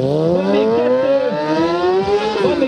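A motorcycle engine revs hard and steadily while the rider pulls it up onto one wheel in a stunt, with loud rising and falling whines close by and no talk.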